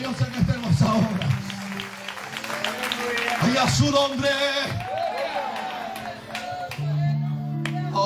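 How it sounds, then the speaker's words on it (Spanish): A church congregation claps for God during a sermon, scattered applause and crowd noise under a preacher's voice, with the clapping continuing in the background as he keeps speaking. "Dale palmas a Dios."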